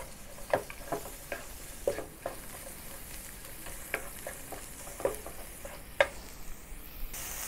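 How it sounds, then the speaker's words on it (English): Onions sauté in oil in a pan, giving a steady soft sizzle with close, intermittent scraping stirs and small clicks, and no voices. "Saute the onions with the remaining oil."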